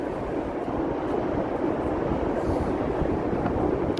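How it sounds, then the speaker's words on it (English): A Chicago L elevated train rolls past on its tracks above a downtown street, a steady, loud, close rumble that fills the whole stretch without a break and with no voices. "There's the L train going by there."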